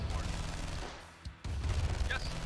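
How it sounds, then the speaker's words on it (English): A tank firing on enemies in Command & Conquer Remastered, heard as a dense rumbling burst of gunfire, a brief lull with a single thump, then another heavy volley, loud and close. "let's try driving this tank up, and we'll take out this northern part"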